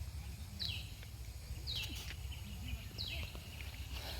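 Birds calling outdoors in a quiet countryside spot, with three short, bright chirps spaced about a second apart over a steady low rumble of background noise.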